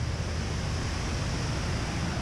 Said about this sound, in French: Regardez-moi ces deux immenses cascades qui se rejoignent en fait.